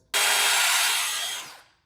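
A power drill with a small 1/16 bit bores a pilot hole into a solid wood door, a sudden loud whirring burst lasting about a second and a half before quickly winding down.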